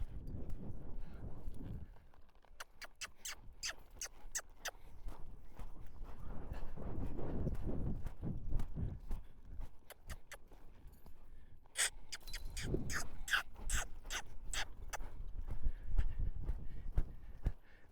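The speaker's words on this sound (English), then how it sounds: "loping around here." Horse loping in an arena, rhythmic hoofbeats thudding in repeated bursts with snorting breaths, alternating with quieter stretches of soft ambient noise, mid-distance.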